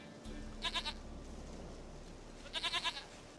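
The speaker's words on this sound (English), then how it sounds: "Goat of mine! Dearest, sweetest goat!" A goat bleats in The Witcher 3: Wild Hunt, two short quavering bleats about two seconds apart over a soft ambient bed.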